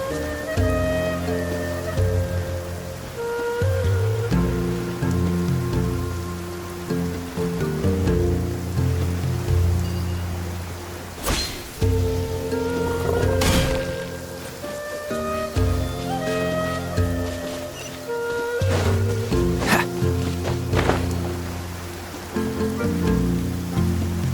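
Steady rain patters in Genshin Impact, a soft broadband wash that runs the whole time under melodic game music, with a few sharper splashy hits along the way.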